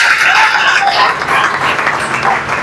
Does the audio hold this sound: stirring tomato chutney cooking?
no